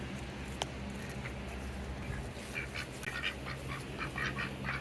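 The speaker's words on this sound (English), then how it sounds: "The ducks approve." Ducks on a homestead quack faintly in a short scattered series toward the end, under steady low background rumble, with no talking.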